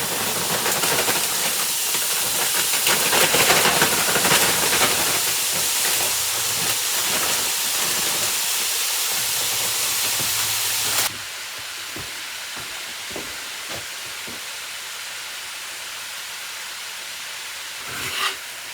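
Frozen egg roll filling hits a preheated iron skillet and gives a loud, dense, steamy sizzle up close. The hiss holds steady, then drops suddenly to a quieter, continuous fry with a few faint scrapes.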